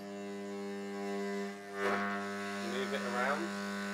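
A degausser erasing a disk set on foam gives a steady, faint electrical hum and buzz with slight vibration, while a person talks briefly over it near the end.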